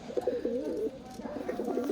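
A Bengali tula pigeon coos in a soft, repeated burbling phrase close to the listener, fairly quiet, with a brief pause midway and no talking over it.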